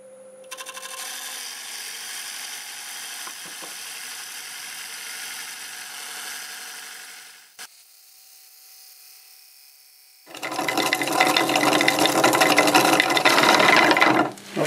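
A wood lathe spins at about 600 RPM with a steady mechanical whir while wood is turned into rings. It briefly falls quieter, then a loud, harsh scraping roar starts as the tool cuts into the spinning wood.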